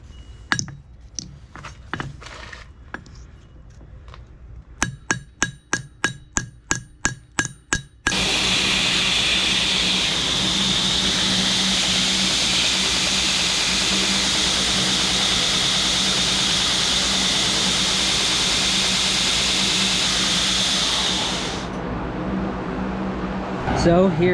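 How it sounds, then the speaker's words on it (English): A piece of old tanto habaki, likely copper or brass, is beveled on a power grinder: a few sharp taps and short bursts first, then a loud, steady whine for about thirteen seconds that cuts off near the end. "I'm going to bevel this down and make the little insert that goes at the bottom"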